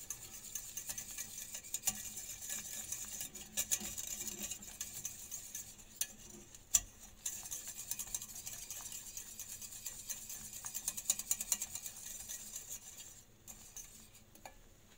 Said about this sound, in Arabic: ونقعد نحرك ونخليها واحد 2 دقائق